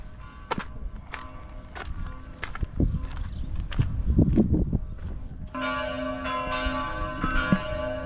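A church bell rings from a bell tower in Zadar, Croatia, loud and near, with repeated strikes that blend into a sustained resonant peal in the second half, alongside clacking street sounds like footsteps or hooves.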